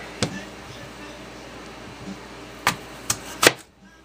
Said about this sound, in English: And I'm going to be cutting out the core part.